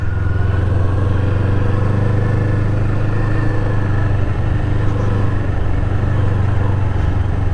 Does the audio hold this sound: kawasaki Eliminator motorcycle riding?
yes